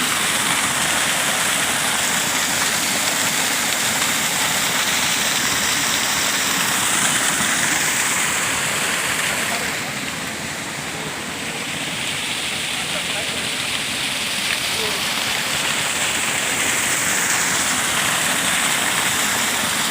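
Water from a waterfall tumbling down the hills at Himchhari near Cox's Bazar beach, a dense, continuous broadband rush that stays loud and steady throughout, dipping slightly midway.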